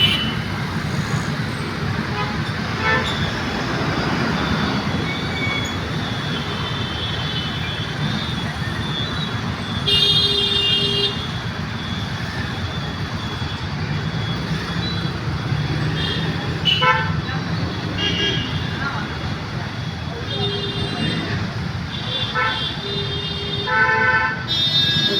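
Heavy road traffic on a busy Chennai street, with a steady roar of engines and repeated car and motorbike horns honking near and far throughout, while a voice talks at times.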